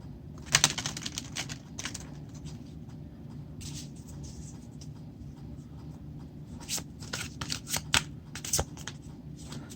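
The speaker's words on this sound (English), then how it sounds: "Spirit says one more shuffle." A deck of cards is shuffled at a table in a quiet room, giving soft riffling and crisp flicking bursts in short clusters over a low steady background hum.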